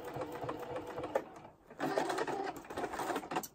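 Sewing machine stitching a large quilted pineapple artwork painted in acrylic, running in a fast steady whir that breaks off briefly mid-way and then resumes at full speed, close and fairly loud.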